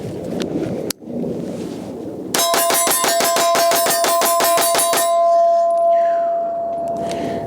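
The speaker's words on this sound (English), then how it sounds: "I'm going to do a mag dump, 16 rounds" A Staccato CS pistol fitted with a Holosun 507 Comp fires a rapid 16-round mag dump on a range, each sharp crack coming in quick even succession with ringing metallic tones, followed by lingering ring and wind noise.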